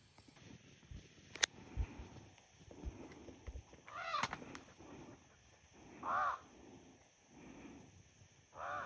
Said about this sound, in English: Here we have what seems to be a bird of some sort.